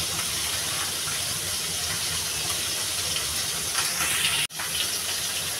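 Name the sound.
singhi fish frying in a pan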